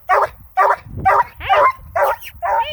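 A female Redbone Coonhound puppy barks six times in a steady rhythm, loud and close. The yipping barks are evenly spaced, and one is slightly drawn out and whiny.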